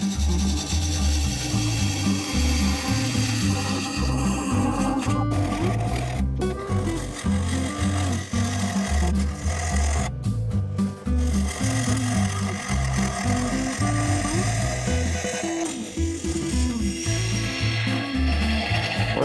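A wood lathe turns a small piece while a tenon and bevel are cut, producing a loud, continuous, rhythmic chattering rumble with scraping tool noise throughout.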